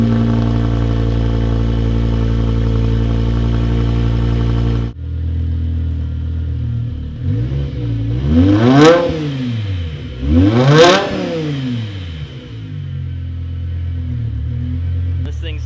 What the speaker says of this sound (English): That V10 is so high pitched, it's insane.